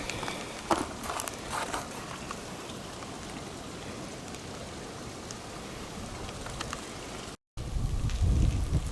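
Steady rain patters across the whole stretch in the Blue Mountains near Victoria Falls, with scattered drops and some crackly shuffling close by, ending in a heavier low rumble.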